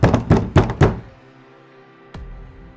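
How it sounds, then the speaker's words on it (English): Four heavy knocks land on a door in quick succession, loud and close, followed by a lingering low hum of a quiet, empty prison at night and one more sharp thud near the end. "At 2:47 a.m., something knocked on the door."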